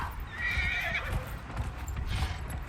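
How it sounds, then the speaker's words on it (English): A horse in the video game Dragon Age Inquisition neighs in a high, wavering whinny while hooves clop underneath in an uneven rhythm, close and fairly loud with no talk. "Let's use the horse, shall we?"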